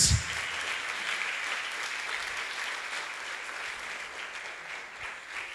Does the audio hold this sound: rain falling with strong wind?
no